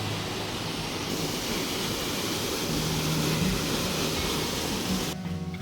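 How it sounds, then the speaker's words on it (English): Waterfalls pour into a gorge below a bridge, producing a continuous, even rushing roar with no pauses or other sounds. "There is a bridge here just above the gorge with really nice waterfalls."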